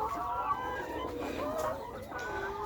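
Layer hens on a chicken farm with about a hundred birds give off a quick run of close clucks and squawks, several overlapping in a short burst.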